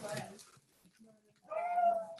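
A pet dog lets out a short, tonal howl, close and moderately loud, right after a moment of indoor talk.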